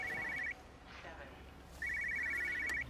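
Electronic telephone ring in the video game Everybody's Gone to the Rapture: two bursts of steady trilling tone, the first short, the second longer after a pause, over a faint hum and light background rustle.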